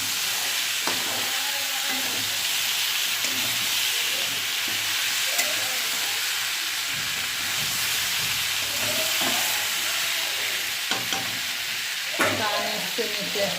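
Chickpea curry cooks in a pan with a continuous, even sizzle and hiss, with occasional faint clicks of stirring.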